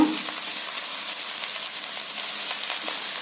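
Spinach stir-frying with onion in hot oil, an even close hiss of sizzling that holds steady throughout with faint stirring, and no one talking.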